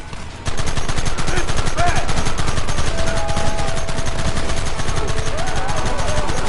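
Sustained gunfire at targets begins abruptly after a short pause, a loud, rapid automatic stream of evenly spaced shots that keeps going to the end, with faint tonal sounds in the background.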